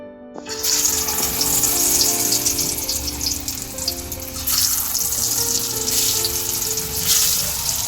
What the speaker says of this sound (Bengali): ইনস্ট্যান্ট আলু ভাজা করতে, মানে ফ্রেঞ্চ ফ্রাইস করতে